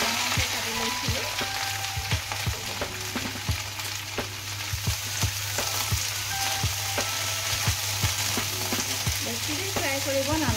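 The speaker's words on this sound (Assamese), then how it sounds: "প্ৰথমতে মই ভেন্দিখিনি ফ্ৰাই কৰি লৈছো" Cut okra fries in a pan with a constant sizzle, while a utensil stirs it and taps the pan again and again, close up over a low steady hum.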